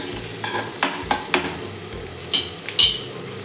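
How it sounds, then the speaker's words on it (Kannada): Chopped garlic and ginger sizzle in a pan for village-style egg sambar while a spoon scrapes and taps it in about eight sharp, close strokes over a continuous fry hiss. "ಬೆಳ್ಳುಳ್ಳಿ ಸಣ್ಣದಾಗಿ ಹಚ್ಚಿಟ್ಕೊಂಡ ಶುಂಠಿ ಫ್ರೈ ಮಾಡಬೇಕು ಚೆನ್ನಾಗಿ"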